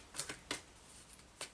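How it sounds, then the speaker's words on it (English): Archangel oracle cards being shuffled by hand, giving a few quiet, brief riffling bursts at irregular intervals against near silence. "I'm gonna pull some Archangel cards to see."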